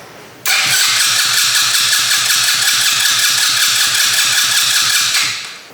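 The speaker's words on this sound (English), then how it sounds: "So we turn it on. Fuel pump's priming, and it should theoretically start." A fuel-injected 125cc turbocharged go-kart engine cranks and catches, running with a fast, even mechanical pulse for about five seconds, loud and close, before dying away; no talking.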